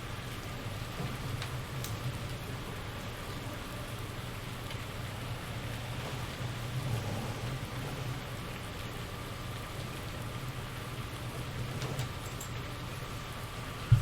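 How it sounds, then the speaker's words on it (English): Steady rain in Farming Simulator 19 on a farm while ploughing, a constant even patter under a low engine-like rumble, unbroken for the whole stretch with no voices. "it looks like the rain's coming down a little bit harder."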